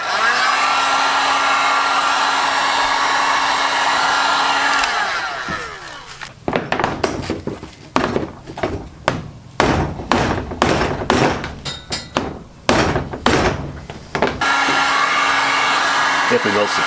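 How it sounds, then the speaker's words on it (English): A hot air gun blows steadily at close range to heat and soften paint on a car panel. Its hum is interrupted midway by a run of irregular thumps, taps and scraping, then resumes. "We'll try a bit of heat with the hot air gun first, see if that gets a bit softer."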